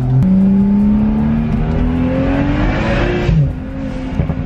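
A tuned car's exhaust rumbles loudly and close, the engine pitch climbing steadily under throttle before it drops off with crackling burbles and pops as the revs fall.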